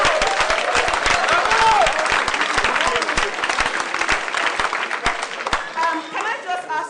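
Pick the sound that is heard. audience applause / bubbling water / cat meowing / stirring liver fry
audience applause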